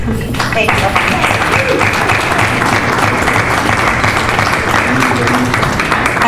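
Audience applause at the close of a mayoral candidate debate, a loud, sustained roar of many hands clapping that starts almost at once and keeps an even intensity, with faint voices underneath.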